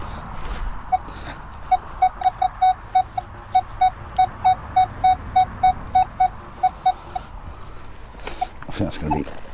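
A metal detector sweeping over a Roman settlement site gives a run of short, evenly spaced high-pitched beeps, with faint background noise and a brief burst of talk near the end.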